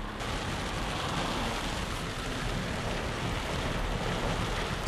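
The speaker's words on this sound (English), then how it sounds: "Suddenly, a heavy rain comes again, turning roads into streams, making travel almost impossible." Heavy rain pours down on flooded roads near Kalutara, Sri Lanka, a dense, steady roar of downpour with no voices.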